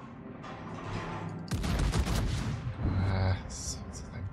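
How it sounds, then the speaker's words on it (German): Heavy naval guns fire in a burst in World of Warships, booming blasts with a rumbling tail amid game sound effects and a voice talking. "Jetzt gingen nur zwei Schüsse rüber."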